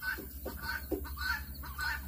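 Poultry in a farm brooder on a small Texas farm, with repeated short honking and clucking calls in rough bursts over a steady low hum, fairly close.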